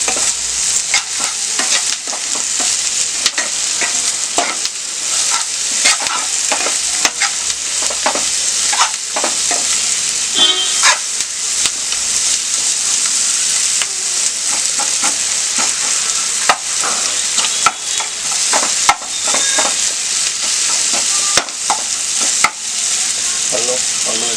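Onions sauté in a pan for a sweet pumpkin curry, a loud continuous sizzle with frequent scraping strokes of a stirring spoon, close and steady throughout with no talking.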